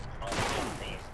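A short burst of rapid gunfire in the video game Fallout 76, with loud overlapping shots that swell and fade within about a second, alongside a player's excited voice.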